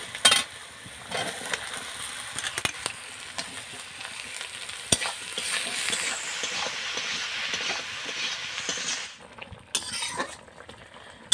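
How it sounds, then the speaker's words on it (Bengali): Chopped ridge gourd fries in a pan with onion, green chilli, salt and turmeric, producing a continuous hissing sizzle with spatula scrapes and knocks, swelling in the middle before tapering off. "এবার আমি কেটে রাখা ঝিঙেটা দিয়ে দিব"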